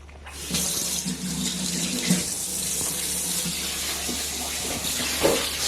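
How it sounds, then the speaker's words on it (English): Cold water runs steadily from a kitchen tap while prawns are rinsed with lime, a continuous loud rushing splash that starts after a brief quiet moment and carries on alone without any talk. "Okay, cold tap."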